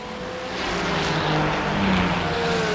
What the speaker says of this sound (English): This is the race car.